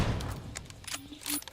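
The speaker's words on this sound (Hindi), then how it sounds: "गोली तो बहुत ज्यादा जोर की चलती है" Gunfire from PUBG Mobile comes in a few scattered short bursts, fairly faint, over a low background rumble.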